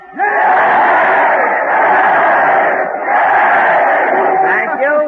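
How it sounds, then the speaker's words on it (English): A crowd at a train station gives three cheers, loud, rhythmic group shouts in two long swells with a brief dip between them, recorded with a thin, old-radio quality. "And look at that crowd. They're giving 3 cheers for Fred Allen."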